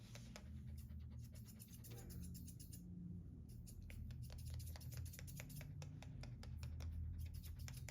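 Rapid, steady snipping and scratching of thinning shears trimming a poodle mix's fur, close and continuous with a brief pause, over a low room hum and without talk.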